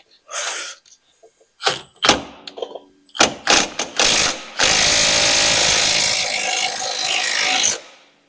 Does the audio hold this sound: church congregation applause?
no